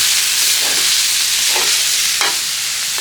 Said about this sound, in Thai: เราก็จะใส่ตับ พอใส่ตับแล้วผัดคลุกให้เข้ากัน